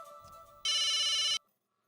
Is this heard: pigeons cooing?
no